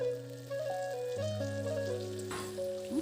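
Banana chips frying in oil, a soft, steady sizzle and bubbling heard close up and fairly quiet, alone without talk, with a brief brighter burst near the end.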